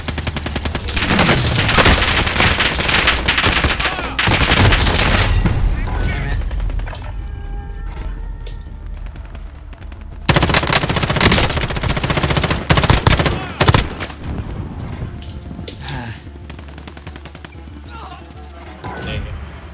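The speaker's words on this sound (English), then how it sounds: "someone trying to shoot" Gunfire in the video game Call of Duty: Warzone bursts in loud, sustained rapid-fire volleys with booming impacts, pausing briefly midway before another heavy fusillade, while players talk over it.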